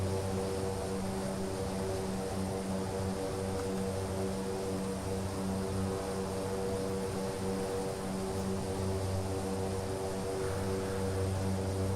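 A propeller aircraft engine drones steadily in flight in the Prepar3D v5 simulator, a constant even hum with a low rumble that holds at a moderate level throughout, with no speech.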